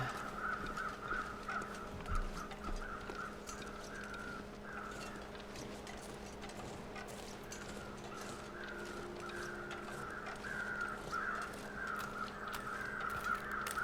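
Crows caw again and again in the distance over a steady background hum in the video game The Long Dark, with no one talking.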